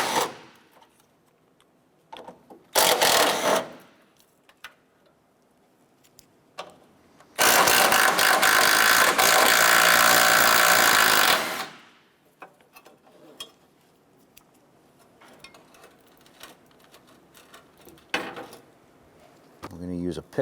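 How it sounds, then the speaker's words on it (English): A tool driving a 13 mm socket whirs as it removes the bracket bolts on a 2006-2013 Chevrolet Impala: one short burst, then a louder sustained run of about four seconds, with light clinks around it. "Using a 13mm socket, we're going to go ahead and remove the bolts securing this side bracket on the side."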